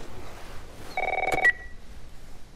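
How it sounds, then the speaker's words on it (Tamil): A telephone ringing in The Last of Us video game, a short electronic tone burst that chirps briefly and then cuts off against a quiet background. "இந்த ஃபோன் அடிக்குது."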